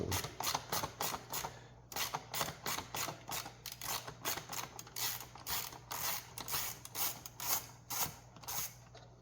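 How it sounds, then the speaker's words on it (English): A screw is undone on a BMW 335i E92 headlight projector housing, giving a fast, close, steady series of ratcheting clicks in short repeated bursts with brief pauses, and no talking. "undo that screw"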